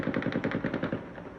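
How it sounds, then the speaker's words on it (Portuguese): A rapid burst of automatic gunfire at night in city neighborhoods, about a dozen shots in quick succession, loud and continuous before trailing off. "Os disparos foram ouvidos em pelo menos 4 comunidades da capital"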